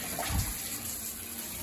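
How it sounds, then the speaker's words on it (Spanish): Hot water gushes from a newly opened valve on a water heater outlet fitted with an air vent pipe, a loud steady rushing flow with a brief low surge at the start. "Ya se le abre a la válvula del agua caliente"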